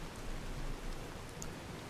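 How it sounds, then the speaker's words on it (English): Heavy rain falls in the Fallout New Vegas game world, a dense, even hiss of downpour with no distinct drops or other sounds over two seconds. "It's going to be loud and rainy, so prepare yourselves"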